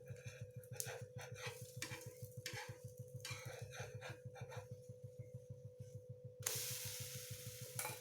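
Banana and egg pancake batter frying in a pan, a soft continuous sizzle close by with a low steady hum beneath, rising to a brighter, louder hiss near the end.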